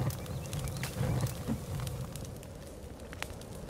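A campfire burns in the survival video game The Forest, a steady low roar under scattered sharp crackles and pops, fairly quiet throughout.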